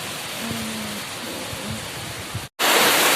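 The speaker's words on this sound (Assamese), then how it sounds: "বতাহজাক অহাৰ পিছত এইবাৰ দিছে মস্ত বৰষুণ" Heavy rain falling after a windstorm, a dense steady hiss of downpour close around, briefly cut off near the end before resuming even louder, no voices.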